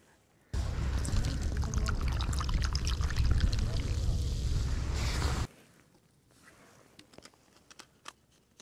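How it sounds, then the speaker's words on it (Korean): Mackerel and horse mackerel pour out of a net onto the deck of a fishing boat in a loud, dense wet rush lasting about five seconds, followed by scattered thumps and flapping. "막 고등어 막 쏟아지네"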